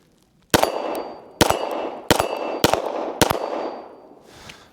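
Shots from a Springfield Prodigy DS Comp pistol striking a steel target: five sharp reports spaced about a second apart, each followed by a bright metallic ring that decays, loud and close, with no talking.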